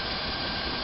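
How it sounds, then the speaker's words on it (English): A gas burner running with its blower off gives a steady, even, close-up roaring hiss with no breaks for under a second. "There it is without the blower on."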